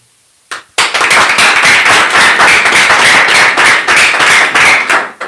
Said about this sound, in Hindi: बाप रे बाप रे, ताली पीट रहे, क्या पीट रहे?